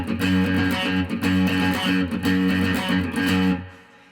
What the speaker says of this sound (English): So the first octave riff that starts off the whole tune sounds like this.